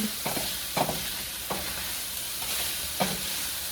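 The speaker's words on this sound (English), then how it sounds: "Let's stir this up really good." Cheeseburger casserole mixture seasoned with paprika, salt and pepper sizzles steadily in a pan while a spoon stirs it, giving four or five distinct scraping knocks.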